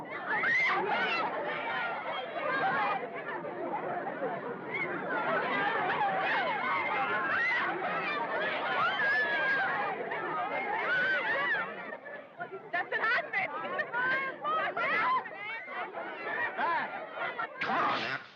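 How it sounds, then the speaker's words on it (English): Fans and onlookers crowd around a 1969 film shoot, a loud close babble of many overlapping voices, laughter and shouts running the whole time. "Wherever there's a camera, there's a crowd."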